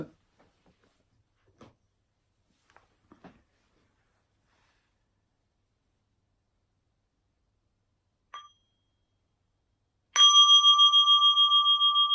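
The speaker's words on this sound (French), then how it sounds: "pendant que je récupère la cloche" A meditation bell is struck once after a few faint handling taps, ringing out with a clear, sustained metallic tone that slowly fades, close and alone in a quiet room.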